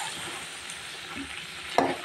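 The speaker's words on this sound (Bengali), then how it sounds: "বন্ধুরা, আমি মাংসটাকে সুন্দর করে কষিয়ে নিচ্ছি।" Mutton stir-frying in plenty of oil in a pan gives a steady soft sizzle, with a brief sharp scrape of the spatula near the end.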